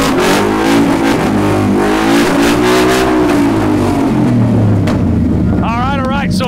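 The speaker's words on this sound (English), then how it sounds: "Scared to just rev the ever-loving piss out of everything" A Ford F100 truck with a 785-horsepower engine revs loud and close at a burnout pit, the roaring exhaust rising and falling continuously with crowd noise underneath.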